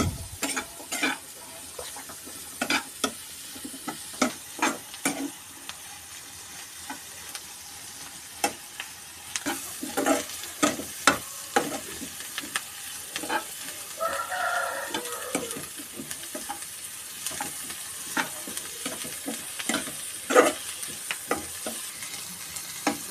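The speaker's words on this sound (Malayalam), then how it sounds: "നിങ്ങൾ അതിനനുസരിച്ച് നല്ലതായിട്ട് ഇളക്കി കൊടുക്കുക" Chopped onions with a pinch of salt being stirred and sautéed in a pan for an egg roast, with steady frying sizzle and repeated scraping of the spoon against the pan, close and without talk.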